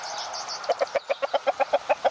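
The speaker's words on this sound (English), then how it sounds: "He's the rooster." A rooster among heritage breed chickens in a backyard farm gives a run of about a dozen loud, evenly spaced clucks close by, after a brief higher call at the start.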